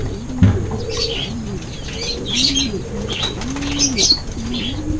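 Racing pigeons coo and call repeatedly in a loft during derby training, with wings flapping and soft chirps overhead at moderate distance and no talking.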